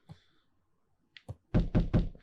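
A door knocks in the video game Beacon Pines: one faint thump, then a couple of short taps, and finally three loud, heavy knocks in quick succession. No one speaks.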